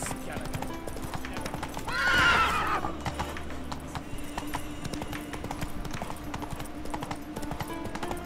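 A horse in the video game The Witcher 3: Wild Hunt, steady rhythmic hoofbeats at a galloping pace with a brief neigh partway through, under a faint game background.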